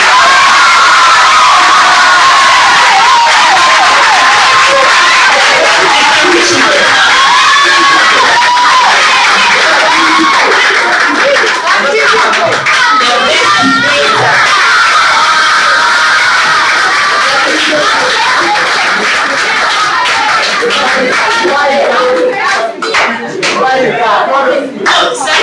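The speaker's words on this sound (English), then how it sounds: "Round of applause to Kezia." At a senior high school competition, a loud crowd erupts in cheering, whoops and brisk clapping for a winning student named Kezia, with children shouting and voices mixed in throughout the long, busy ovation.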